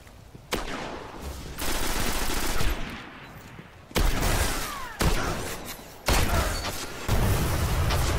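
Rapid bursts of legendary auto rifle fire in the Destiny shooter, several loud sustained volleys separated by short pauses, heavy-kicking and fast-firing, with no talking.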